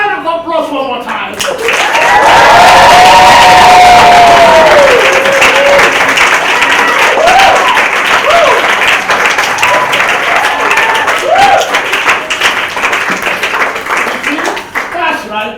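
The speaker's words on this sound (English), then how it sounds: "Give him a big round of applause one more time." An audience at a religious talk claps and cheers loudly and continuously, building quickly to a full roar and sustaining it, with shouting voices mixed into the applause throughout.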